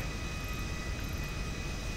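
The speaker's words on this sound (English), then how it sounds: "There's a jet coming straight towards us." A jet aircraft in GTA 5 roars steadily as it flies toward the player, a constant loud engine drone filling two seconds with no voices.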